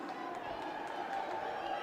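Rowdy hockey crowd at a school playoff game filling an arena with a steady, dense roar of voices and chatter, continuous and fairly loud throughout, with scattered shouts rising above the din.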